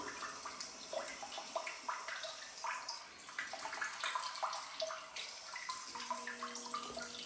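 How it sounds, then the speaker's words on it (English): A smart heated bidet toilet seat in auto mode sprays warm water in a steady, soft wash that continues alone at low level, with a faint electronic tone near the end. "When you press auto mode, it's just gonna start from washing to drying."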